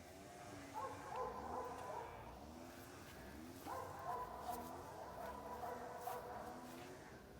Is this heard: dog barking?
yes